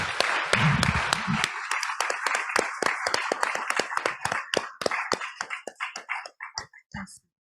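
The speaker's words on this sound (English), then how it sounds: "So we can clap for them." Audience at an Indigenous salmon peoples gathering applauds the chefs and catering staff: dense clapping at first, thinning into scattered individual claps that trail off to a few last ones.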